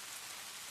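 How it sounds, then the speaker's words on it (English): Rain ambience from a Twine game plays as a dense, steady hiss of falling rain, even and continuous with no pauses or voices. "after I click begin, the rain sounds will start"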